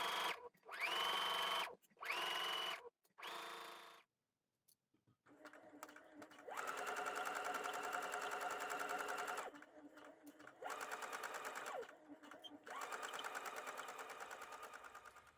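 A sewing machine top-stitching the facings of a Stevie dress, running in several steady bursts of varying length separated by short pauses, close and fairly loud, with no talking.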